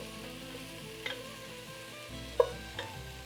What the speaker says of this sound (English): These are getting really crispy, and I'm getting lots of browning on the bottom of my pan.